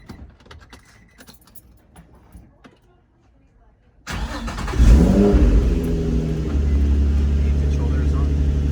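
A G35 car sits quiet with faint jangling of keys before its engine cranks and catches abruptly, then settles into a loud, close, steady idle with a slight rev.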